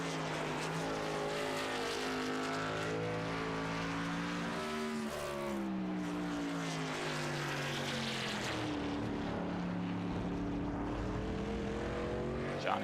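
Race car lapping the Road America circuit in a sportsman series event, a sustained engine drone with shifting pitch as it approaches and passes, loud and continuous over crowd-like background noise.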